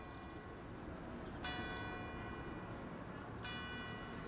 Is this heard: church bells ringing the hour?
yes